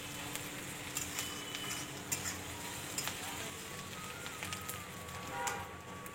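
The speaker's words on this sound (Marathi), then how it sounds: "आणि हे चांगलं थोडा वेळ तेलात परतून घ्यायचं." Sliced onion with garlic, ginger and cumin paste sautéing in hot oil over medium heat, a steady crackling sizzle with faint stirring scrapes throughout, no speech.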